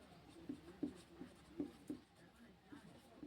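A pen scratches on paper during a class 10 math lesson, faint and close, a series of short strokes and taps in an uneven rhythm.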